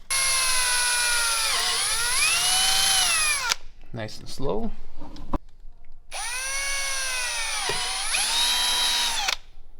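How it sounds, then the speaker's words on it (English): A power drill whines steadily in two long runs, its pitch dipping under load as it bores through a plastic dash panel on a Can-Am Defender HD11; someone speaks briefly in the pause between. "drill through the secondary panel in the back, making sure there's nothing behind it when you're drilling"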